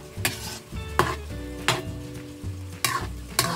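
Pork menudo sizzling in a pan while being stirred, with sharp scrapes and knocks of the utensil against the pan every half second or so over a steady frying crackle, close up.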